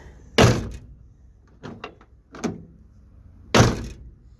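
A 1957 Plymouth Savoy car door is worked repeatedly: two heavy slams bracket a series of lighter latch clicks and thunks in between, all close by and with no talking.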